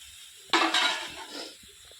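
Mushrooms drop into a pan of frying cauliflower and potato with spices, setting off a sudden burst of sizzling that fades over a second.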